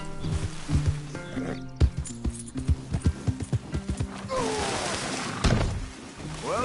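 Horses moving in Red Dead Redemption 2, with a steady run of hoof clip-clops close by, a whinny near the end and people talking over the hoofbeats.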